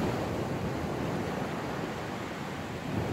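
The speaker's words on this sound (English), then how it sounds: "Okay, it's just the waves." Choppy sea surf on a beach on a chilly, calm mid-September morning: a steady, continuous wash of waves with wind, fairly close and even in loudness, with no talk.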